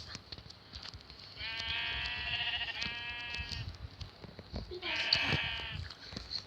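A sheep in a block-building video game gives two clear bleats, a longer one and then a shorter one, fairly close and distinct, with faint background sounds and no clear speech over them.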